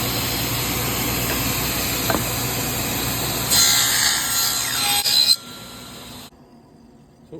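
A table saw rips small-scale wooden studs with the blade set one tooth high, a steady loud whine and hiss of cutting that rises briefly, then cuts off as the saw winds down into near silence.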